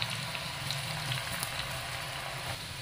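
Eggplant pakoda batter frying in hot refined sunflower oil, a close continuous crackling sizzle with scattered pops, steady and alone without talk.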